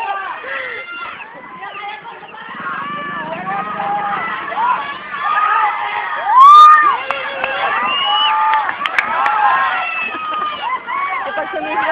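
Crowd shouting and cheering at a palosebo greased-pole climbing contest during a village fiesta, a steady roar of many voices with one louder burst of yells midway, people talking throughout.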